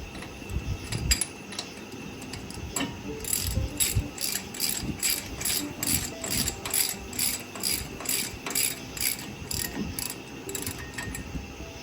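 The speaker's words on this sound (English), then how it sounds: "I'm gonna just put 2 lug nuts on here to help hold this dude in place" Ratchet wrench clicking steadily as lug nuts are tightened on a Jeep CJ5 wheel, a rapid close-up run of mechanical ticks over a garage background.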